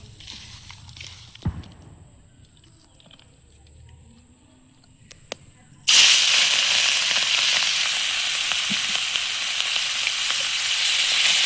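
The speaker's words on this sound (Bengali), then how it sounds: "মাছটা ভেজে নেওয়া হচ্ছে" Fish coated in salt and turmeric sizzles in a wok on a village clay stove by the riverside, a quiet start with a few clatters, then a loud, dense, continuous frying hiss.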